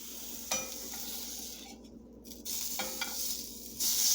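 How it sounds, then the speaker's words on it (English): Sausage fries in a pan with little oil, making a continuous soft sizzle broken by a few sharp clicks and scrapes as it is stirred and moved. "it's still cooking right along. And if you look in the pan and notice, there's not a lot of oil in this sausage."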